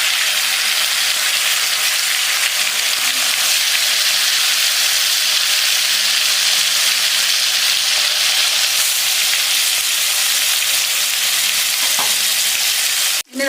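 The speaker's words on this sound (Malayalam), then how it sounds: "നമ്മൾ വറക്കാനായിട്ട് എണ്ണ ചൂടായി തവയിലേക്ക് മീൻ വെച്ച് കൊടുക്കുക കേട്ടോ." Fish frying in hot oil on a tawa over a medium flame gives a steady, loud, dense sizzle that runs evenly throughout, with a brief clatter near the end and no voices.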